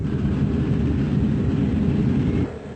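Airplane engine roar during a landing approach at Zurich airport in an early-1990s flight video game, a steady loud drone that stays even and then drops off abruptly near the end.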